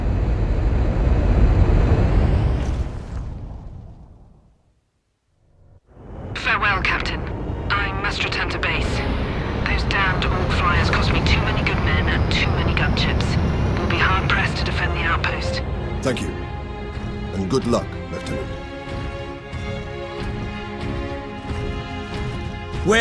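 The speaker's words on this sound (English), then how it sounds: "Valkyrie on approach." A Valkyrie aircraft approaches in the Warhammer 40k Space Marine video game, its engine roar filling the scene with other game sounds, briefly cutting out before a sustained loud rumble returns.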